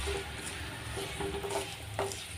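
Ajwain (carom seeds) frying in a pan with a soft, steady sizzle and a few light stirring scrapes of a utensil against the pan, close and continuous with no talking.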